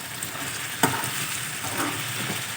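Chopped peeled tomato stirred into sliced potatoes frying in a pan for aloo masala, a steady close sizzle with a brief spoon scrape, no talking.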